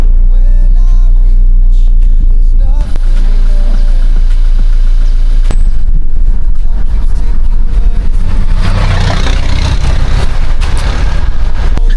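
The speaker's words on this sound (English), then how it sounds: "Those big trucks like that, especially the double trailer trucks" A big double-trailer truck rumbles past on a road during sugarcane season. A loud, continuous low engine drone grows into a broader roar of passing noise toward the end.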